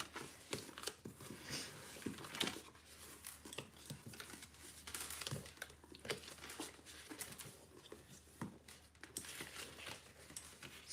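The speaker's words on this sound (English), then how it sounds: "Now we're going to fold on all those score lines and burnish with our bone folder." Stiff paper or cardstock being folded along score lines and burnished flat with a bone folder for a small jam jar holder, heard as close, continuous crinkling, rubbing and soft crisp taps with no talk.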